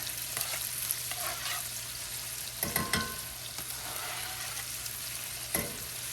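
Minced sweet onions, rosemary and lemon zest with potatoes sizzle steadily in a skillet, with a few louder scraping stirs breaking through the constant frying hiss; no talking.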